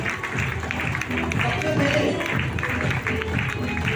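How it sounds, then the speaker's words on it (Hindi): A crowd claps steadily and loudly, a dense patter of many hands that carries on throughout without a break. "पूरी ऊर्जा के साथ क्लैप करिए, क्लैप करिए।"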